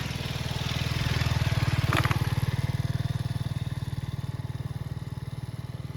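A Duke motorcycle engine with a battery problem that makes it stall idles steadily with a rapid, even putter, swelling briefly near the middle before settling back to a constant chug.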